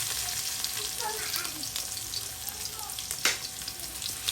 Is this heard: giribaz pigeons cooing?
no